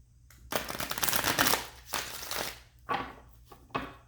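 Tarot cards being shuffled by hand in several bursts, a long riffling run followed by shorter flicks, close and crisp with no talk.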